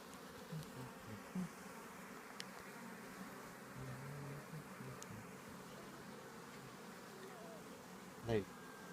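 A steady, dense buzz of many honey bees at an open hive fills the air, close and continuous, with one louder insect passing near the end.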